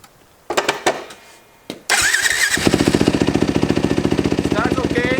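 Close and loud, a four-stroke dirt bike with a Keihin FCR carburetor is kicked over, then catches and settles into a fast, even, throbbing idle. A few clicks and thumps come before it fires.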